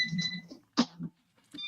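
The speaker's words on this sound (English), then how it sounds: "my freaking robot vacuum is beeping at me." A robot vacuum beeps in a room, giving two short bursts of thin electronic tones separated by a brief pause, with a faint clunk between them.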